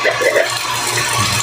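Water gushes steadily from a water pump that had been drawing weakly, a continuous close splashing rush with a low motor hum beneath it and no pauses.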